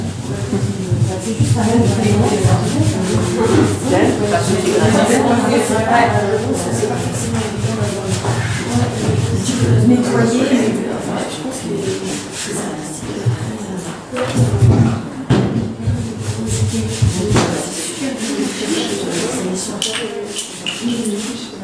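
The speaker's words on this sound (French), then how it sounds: "And then I try to clean." A surface is rubbed steadily to clean off dirt particles, producing a continuous scrubbing and scraping texture with brief louder strokes, while a person talks over it throughout.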